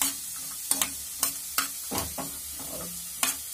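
Makhana (fox nuts) roasting in a pan for a vrat thali, a soft steady sizzle broken by a handful of sharper spoon-scraping stirs, close and alone with no voices.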